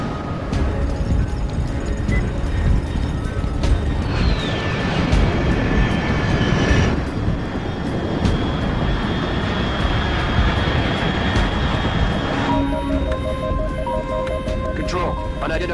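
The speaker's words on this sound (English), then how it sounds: "Control, unidentified aircraft detected." Jet aircraft roaring past overhead in the stealth game Metal Gear Solid Delta: Snake Eater, a loud sustained rumble that swells and fades across the scene, mixed with game music and voices talking.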